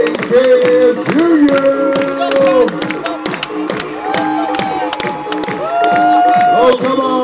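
A packed Tommy Bartlett Show crowd yells and cheers continuously, children's voices and whoops standing out above the broad roar, with some clapping mixed in.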